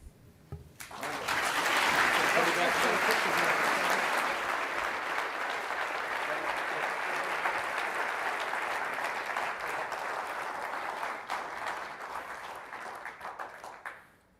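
A welcome for Vietnam veterans and a senator draws a big round of applause from the crowd, a dense, sustained wash of clapping that swells quickly and holds for over ten seconds before thinning out.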